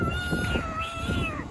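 A man imitates a cat's meow by blowing on a leaf, producing one drawn-out, wavering whistled mew that slides downward at the end.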